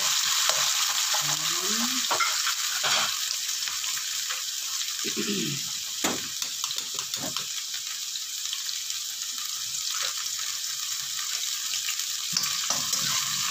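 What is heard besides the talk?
sautéing garlic and onion in a pan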